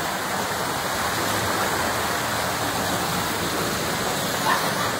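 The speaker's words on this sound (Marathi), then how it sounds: "तर मित्रांनो पाण्याचा फ्लो जास्तच पॅन घेतली." Water flows strongly near a temple, a continuous loud broadband rush like a stream or small waterfall, steady throughout with no voices.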